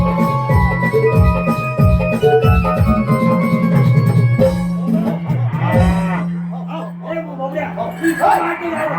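At a Naman folk theatre performance in Sangameshwar, a voice imitates a cow's repeated low mooing in loud, drawn-out calls over music and stage sound.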